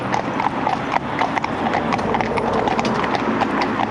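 A young horse walks away during a tandem lesson, its hooves clip-clopping in a steady, even rhythm, fairly close and clear, with faint background noise and no talk.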